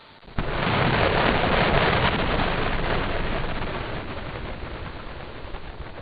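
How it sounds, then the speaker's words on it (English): A sudden loud roar bursts in and holds as a dense, rumbling blast of SpaceX Starship Super Heavy rocket engines firing, slowly easing off over several seconds. "Listen to the engines here fire up."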